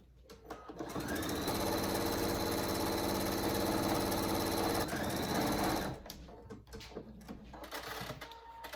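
Close and loud, a sewing machine stitches an animal hammock in one long continuous whirring run of about five seconds, then stops, leaving soft handling sounds of fabric.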